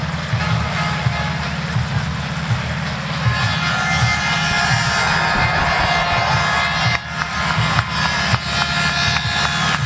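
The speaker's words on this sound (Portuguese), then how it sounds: "Os torcedores gritam o nome de Jardel." Flamengo football fans in a crowd chant and cheer for the player Jardel, a dense roar of voices throughout, with a helicopter-like rumble underneath.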